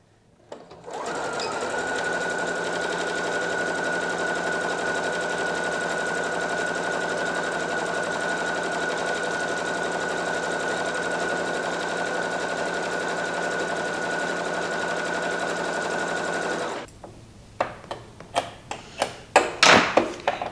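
A sewing machine runs continuously at a steady fast pace, stitching elastic fabric close up, then stops and gives way to a series of sharp clicks and taps, while sewing homemade panties.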